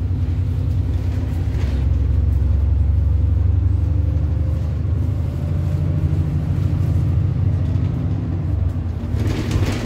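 Arriva Northumbria VDL DB300 Wright Pulsar Gemini double-decker bus on route 308, driving along the Whitley Bay coast, heard from the empty top deck as a steady loud engine rumble and drone throughout, with no talking.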